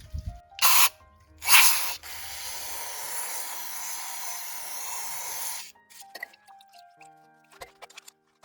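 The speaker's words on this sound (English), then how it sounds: "I'm gonna spray some brake parts cleaner in there" Two short bursts of aerosol brake parts cleaner, then a long steady hissing spray lasting a few seconds, followed by light clicks and handling noises, during a Toyota 2AR-FE engine oil change.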